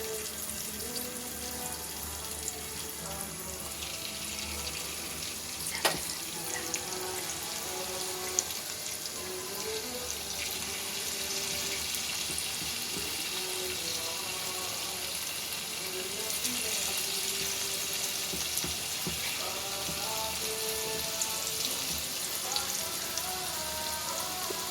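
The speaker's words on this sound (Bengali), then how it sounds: "लो फ्लेमे खूब भालोभाबे पकोड़ागुलोके भेजे नेब लाल लाल करे" Potato pakoras deep fry in hot oil in a kadai, giving a steady, dense sizzle and crackle with occasional louder pops.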